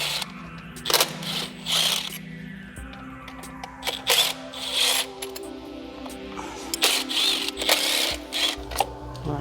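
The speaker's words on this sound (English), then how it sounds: "With the T30, I will pull the screws for these brackets." Bracket screws come out of a BMW N62 V8 engine under a T30 Torx driver, heard as short, close bursts of scratchy clicking and metal handling that repeat every second or two.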